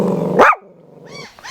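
A single sharp dog bark rings out close by and loud, directed at a neighbor, followed by a brief lower growl and a couple of softer yips afterward.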